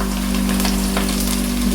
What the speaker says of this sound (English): We are frying our kebabs